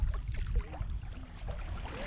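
A canoe paddled through strong current in the Broughton Archipelago, British Columbia, with rushing water and wind rumble close to the microphone and faint paddle splashes, no talk.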